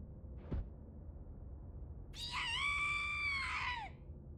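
A loud, drawn-out scream from a female character in the horror game Corpse Party rises sharply and holds for over a second before trailing off, following a brief low thump over quiet ominous background music.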